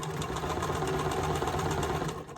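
A sewing machine stitches a seam on a nine-patch quilt block, a steady fast mechanical whir with a rapid needle pulse running continuously and close for about two seconds before slowing to a stop, with no talking.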